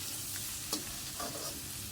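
Chilli curry with cinnamon and chilli powder is stirred in a frying pan, giving a steady low sizzle. A couple of brief scraping stirs break through, and there is no talk.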